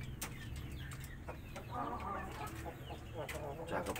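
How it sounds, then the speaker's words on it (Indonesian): Japanese Shamo chickens clucking and calling amid a busy, noisy background, with some wing flapping and scattered bird sounds throughout. "untuk ayam chu samo ini ya dipersiapkan untuk ini kawan-kawan, untuk ayam buat tarian ya"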